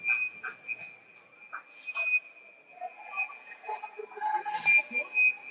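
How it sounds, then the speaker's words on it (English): Referee whistles at a youth hockey tournament game between Mustang and Lakewood, Ohio: a sustained shrill whistle tone runs through most of the clip, with short bursts and arena crowd and rink noise around it. "Whistles blowing steady."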